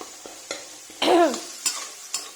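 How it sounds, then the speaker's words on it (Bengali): Spice masala for a pointed gourd curry is stirred and fried in a pan, giving short bursts of sizzle and a few scraping spatula strokes, with one louder hissing swell in the middle, close by. "এখানে পটলের সবজির মশলাটা হচ্ছে এখানে"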